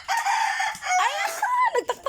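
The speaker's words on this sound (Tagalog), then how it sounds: "Ay, nagtaktalaok siya." A rooster crows loudly and close, its long wavering call breaking into a few ragged final notes.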